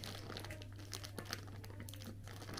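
Plastic packaging on a new school bag crinkling and crumpling as it is pulled open by hand, soft, close and continuous with small sharp rustles.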